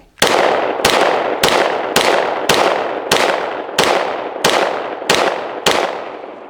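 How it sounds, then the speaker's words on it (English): Ten sharp Glock 17 pistol shots fired at a target, evenly spaced roughly every two-thirds of a second, each loud crack followed by a short ringing decay. "First up, Glock. Straight into the center of the target. Let's unload 10."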